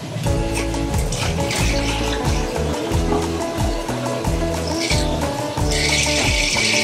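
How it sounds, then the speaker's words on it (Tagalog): Water runs steadily into a container for homemade garden pesticide, a continuous splashing flow over a steady background of music. "siyempre lalagyan natin ng tubig"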